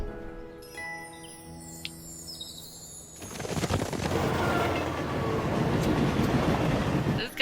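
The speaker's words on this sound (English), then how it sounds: "This guy's pulling the train" A cartoon train starts running after a few seconds of music, a dense rolling rattle and chugging that swells and holds steady, loud and close.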